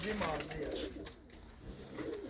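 Pigeons coo under continuous talk. They are Indian Malwai pigeons kept by a hobbyist in England, and the low cooing murmurs through the whole stretch.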